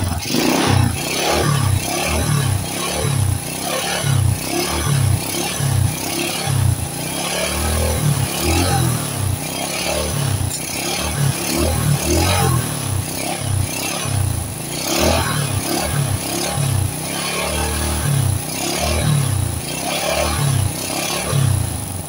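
Motorcycle engine with smoky exhaust, idling and revving in a steady pulsing rhythm with clattering mechanical noise, loud and close throughout with no talk.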